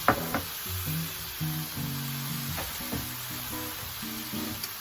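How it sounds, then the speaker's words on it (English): Cauliflower rice sizzles steadily in a hot pan as soy sauce, ginger and garlic powder go in for chicken fried cauliflower rice, with soft stirring clicks over a background of quiet music and no talking. "Now we're gonna add in our soy sauce."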